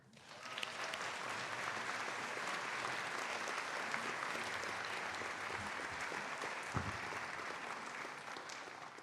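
At a college honors convocation, an audience claps steadily to welcome speaker Ellen Jorgensen, a basketball coach, in a dense, even round of applause that holds from start to finish.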